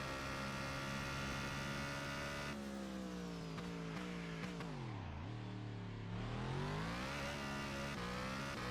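A Formula Vector race car engine in a racing video game on the Bahrain GP circuit, screaming at high revs, dipping sharply as it slows for a corner, then climbing again. The engine note is loud and constant.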